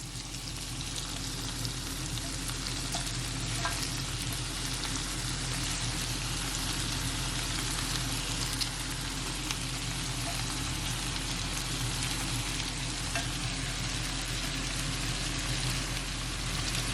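Cabbage sizzles steadily in a pot over medium heat, a dense, continuous crackle and hiss that stays loud and even throughout with no voices.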